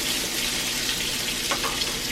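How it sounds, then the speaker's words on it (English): Potatoes frying in leftover bacon grease in an uncleaned pan, producing a dense, steady hiss and sizzle up close with faint crackles, no voices over it. "Throw in your potatoes. Yeah, we're gonna cook them in bacon grease."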